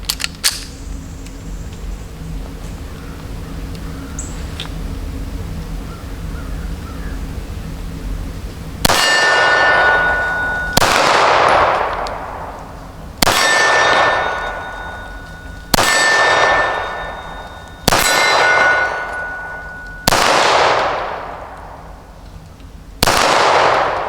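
Shots from a Girsan MC P35 Hi-Power clone pistol hit a steel popper target. Six sharp metallic clangs ring out at roughly two-second intervals, each leaving a bright ringing decay, loud and close, after a stretch of quiet background.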